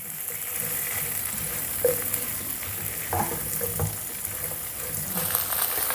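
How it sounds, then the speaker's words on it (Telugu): Okra pieces fry in an oiled kadai with salt and turmeric, a steady close sizzle lasting throughout with a few soft stirring clatters on top. "ఒక 5 నిమిషాలు ఫ్రై చేసుకుందాం."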